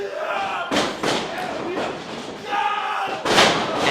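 A wrestler's rump-first hip attack crashes into an opponent in a wrestling ring, giving a few heavy thuds and slams over steady crowd noise and excited commentary.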